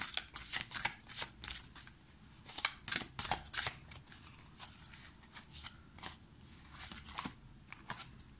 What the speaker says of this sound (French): On va tirer 10 cartes.